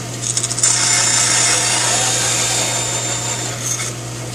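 Hand saw cutting wood for a wedged through-tenon joint, a continuous close, loud rasping stroke sound with a few quick strokes at the start, no talking.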